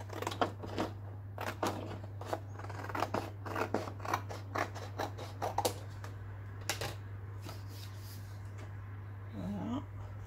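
Scissors cut paper for a handmade mini album, a series of close, crisp snipping strokes in an uneven rhythm over a steady low hum, followed by a brief rustle.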